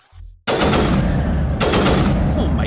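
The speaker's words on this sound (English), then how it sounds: "time to try that new sniper." Sniper rifle fired in Mass Effect: two loud, close blasts about a second apart, each a sharp crack followed by a long rumbling tail, after a brief quiet lead-in.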